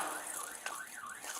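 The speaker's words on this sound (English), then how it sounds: "Your alarm's going off!" A house burglar alarm blares in a continuous, warbling electronic siren, loud and close, with no voices over it.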